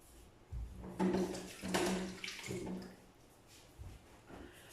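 A kitchen tap runs while hands are washed, giving a soft splashing gush that swells and breaks up as the hands move under the stream, fairly quiet and close, with no talking.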